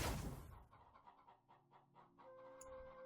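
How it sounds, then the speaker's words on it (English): Chickens cluck in short, rapid bursts in the Undead Horde video game after a burst of noise, with faint tonal game sounds underneath. "Chickens!"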